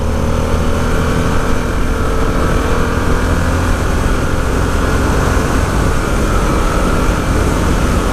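A Harley-Davidson Sportster S motorcycle engine drones loudly and steadily while riding, a continuous rumble with strong wind roar and no talk.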